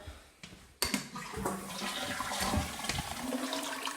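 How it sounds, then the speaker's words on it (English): A household toilet flushes nearby in a plain bathroom, opening with a sharp clunk of the handle before a loud rush of swirling water that keeps gurgling steadily and then begins refilling. "The flush works fine."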